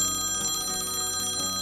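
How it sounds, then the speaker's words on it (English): Phone ringing with a bright, bell-like electronic tone, repeating in quick trilling pulses that sound steady and fairly loud, with no voices over it. "Oh, I think that's my phone."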